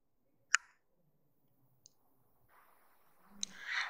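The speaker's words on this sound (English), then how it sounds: "You just click on save, then view downloads" A computer mouse gives three sharp, isolated clicks spaced a second or more apart, quiet and close, with faint rustling toward the end.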